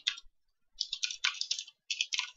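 Quick bursts of typing on a computer keyboard while coding in Java, light clicky keystrokes in short clusters separated by pauses, close and fairly quiet with no talking.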